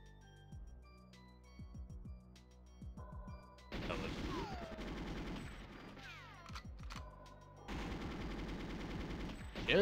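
Gunfire from the Nintendo 64 game GoldenEye 007, with clusters of sharp shots and bursts of rapid automatic fire that come and go, some sounding heavier and denser than others, over a quiet game background.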